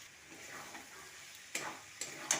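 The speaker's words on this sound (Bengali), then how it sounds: "সব কিছু দিয়ে ভালো করে কষিয়ে নেব।" Coconut, fried potato and spices being stir-fried for pea ghugni, with a soft steady sizzle in the pan and three sharp scrapes or taps of a spatula toward the end, close and without talk.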